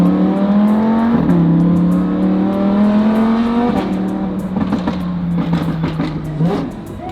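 BMW M5 twin-turbo V8 launching hard under launch control, loud and close, its engine note climbing through several gears with sharp drops at each upshift and a steady aggressive roar throughout.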